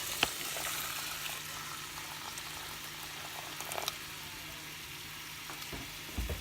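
Rice and water boil in a pot, a soft continuous bubbling and light sizzle heard up close and fairly quiet, with occasional small clicks and knocks from the pot.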